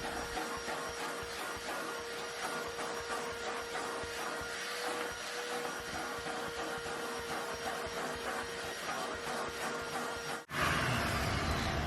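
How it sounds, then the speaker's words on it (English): A vacuum cleaner, a little green Bissell, drones steadily and close while it cleans a car floor mat, its whine holding a constant pitch, then it drops out briefly and the noise changes near the end. "the first thing you want to do is vacuum the floor mat"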